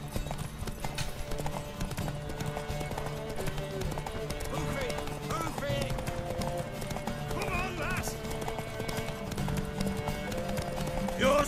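Horse hooves clip-clop steadily in The Witcher 3: Wild Hunt, played on PS4 Pro, mixed with neighing, game music and character voices talking throughout.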